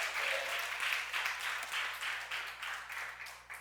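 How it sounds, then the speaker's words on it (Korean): Rhythmic group clapping from a church congregation in steady, pulsing bursts, moderately distant and fairly quiet, with no talking. "우리 크게 한가위 박수 올려드리겠습니다"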